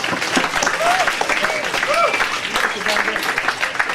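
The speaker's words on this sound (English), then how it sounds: "give yourselves a round of applause for that" Applause and cheering from a crowd at a sports club presentation night fill the whole stretch, steady and lively, with a few whistle-like calls rising above the clapping.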